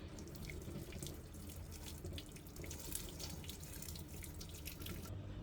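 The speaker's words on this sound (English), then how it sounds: "I'll add the water now." Hot water poured from a tap or kettle into a pot of palm nut soup (ofe akwu) with stockfish, a steady rushing splash that runs continuously, close and fairly loud, with no talking.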